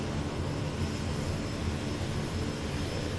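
A Kodiak 100 turboprop engine in Microsoft Flight Simulator spins up with a steady, loud whine and droning roar, constant and unbroken with a thin high tone on top, no talk.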